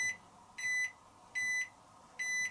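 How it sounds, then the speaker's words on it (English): A 2022 Hisense WFQY1014EVJM 10kg 1400-spin steam washing machine sounds its end-of-cycle alert: four identical short electronic beeps evenly spaced, moderately loud over a quiet room hum. "This just sounds like a microwave oven once it's done. I'm not joking. It's this beep 3 times over."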